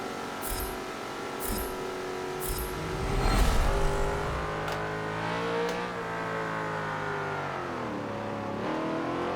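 A race car engine in Forza Motorsport 7 revs and shifts, pitch climbing and falling steadily, with a brief louder surge partway through.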